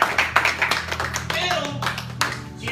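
Church congregation clapping for the Lord during a Spanish-language sermon, a burst of hand claps with sharp taps and some voices mixed in, fairly close and lively.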